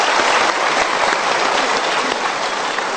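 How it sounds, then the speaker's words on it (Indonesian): Studio audience clapping steadily at an Indonesian television talk show, a dense, even patter of many hands that holds close and loud for the whole stretch without voices. "Kita berikan tepuk tangan dulu."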